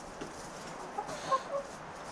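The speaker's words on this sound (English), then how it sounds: "Crazy chickens." Chickens clucking around a homestead barnyard, several soft, irregular clucks rising from steady background ambience at moderate distance, no talking.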